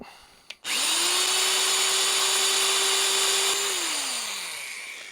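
An old one-speed Black & Decker drill starts up and holds a steady, loud whine for about three seconds, then spins down as it boring holes in the jaws of a rusted Wilton Bullet vise.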